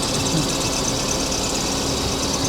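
A Mazda Miata engine idles nearby with a continuous, rough mechanical drone and faint ticking vibration.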